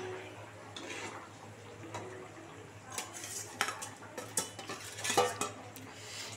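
Foli fish going into a pan of cauliflower curry, with clinks and scraping of utensils against the pan that grow busier toward the end, a faint low hum beneath and quiet sizzling at close range.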